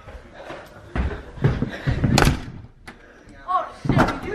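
A door slams shut with several loud thuds, followed by rattling knocks, amid people talking nearby.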